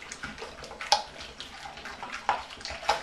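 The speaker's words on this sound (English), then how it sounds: "And then you start whisking" Cornstarch batter being whisked by hand in a bowl, a soft wet swishing and sloshing with a few sharper clicks of the whisk against the side, fairly close and alone.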